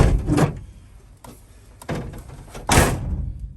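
A truck driver's door on a replacement K10 door being closed, several dull thuds and latch clunks spread across a few seconds, close and moderately loud with no talk.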